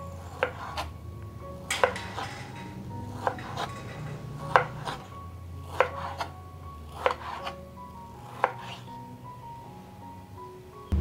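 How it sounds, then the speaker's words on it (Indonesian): A knife slices through strawberries on a cutting board, giving a series of faint, sharp taps at a slow, uneven rhythm under quiet background noise. "kita ambil, kita belah dua, lalu kita iris"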